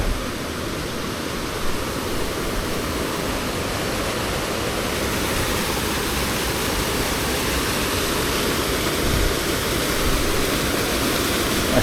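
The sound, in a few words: small waterfall in a rocky gorge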